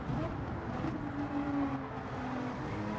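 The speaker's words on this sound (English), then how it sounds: "it kind of sounded a little like Cornbread was short shifting the GTR" The engine of a GT-R race car in Gran Turismo 7 drones steadily during an online race, a moderately loud tone with no talking.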